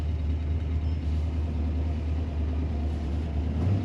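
A 1956 Ford Thunderbird idles with a steady, deep low rumble, close and continuous throughout, and no one is talking.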